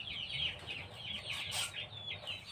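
Chickens cluck softly and repeatedly at close range, a string of quick, faint chirpy calls overlapping each other in a quiet yard.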